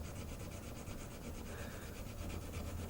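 A steel knife blade is hand sanded against its plunge line, a steady close rasping rub with rhythmic back-and-forth strokes over a low background hum.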